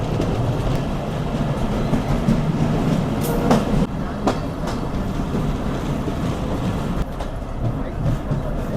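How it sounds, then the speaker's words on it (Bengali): Punorvoba Commuter local train rolling into Rohanpur railway station, a steady loud rumble of the carriages with faint rail clatter and a few brief squeals and clanks along the way. "আমাদের ট্রেন প্রবেশ করছে রহনপুর রেলওয়ে স্টেশন"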